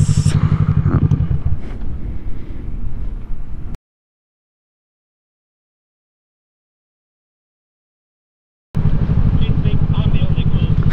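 A cruiser motorcycle rides along the road, its steady engine drone and wind rumble loud and continuous, cutting out briefly into silence before returning at the same level.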